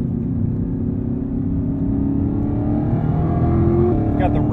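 Chevrolet Camaro ZL1 1LE engine droning steadily from inside the cabin, rising slightly in pitch toward the end, with someone talking over it.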